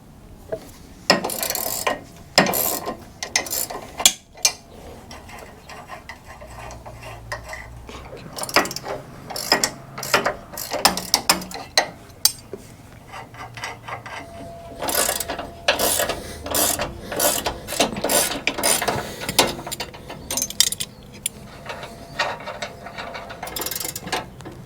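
Ratchet wrench loosening bolts to remove the anti-rock sway bar arms on a Rockjock setup, quick bursts of close clicking repeated in runs with short pauses and mechanical clanks between.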